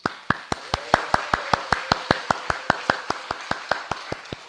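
Steady, evenly timed claps for a birthday at a church gathering, about four or five sharp beats a second in unison, close and crisp with no talking.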